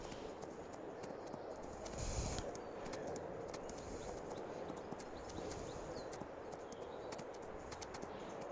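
Steady clip-clop of horse hooves at a ridden trot in Farming Simulator 22, an even rhythmic patter of hoofbeats under light ambient birdsong, no talking.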